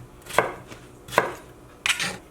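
Knife cutting tomatoes on a cutting board, three distinct separated chops with a soft thud each, close and clear with no speech.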